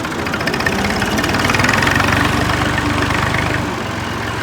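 A tractor engine idles close by in a narrow street, a loud, steady low chugging rumble with a faint knocking pulse that eases slightly near the end, with no talk over it.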